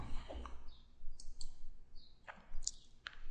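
Computer mouse clicking while managing remote files in an FTP program, a sparse series of quiet, close, sharp clicks at irregular intervals over a faint background.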